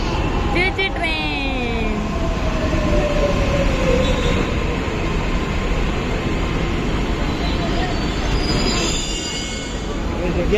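A metro train running on its rails, loud and continuous rumble with squealing wheel tones gliding early on, heard from inside the carriage throughout.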